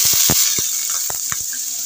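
Onions dropped into hot oil with sizzling fried whole spices for a yogurt-and-jackfruit curry: a steady, close frying hiss with scattered sharp pops and crackles, no voices.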